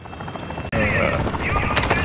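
A video game helicopter rotor thumps and whirs loudly and continuously, jumping in level partway through as it draws nearer, with game effects layered over it.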